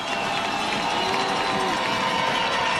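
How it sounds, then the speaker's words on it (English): A vocal crowd roars steadily throughout at a college football game between the UCM Mules and the University of Indianapolis on third down, with a continuous dense cheer and a commentator talking over it. "Not a huge crowd, but a very vocal crowd here on third and six."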